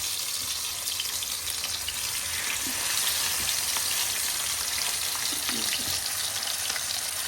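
Sticky rice frying in oil, a loud, dense, continuous crackling sizzle close by with faint stirring underneath and no speech.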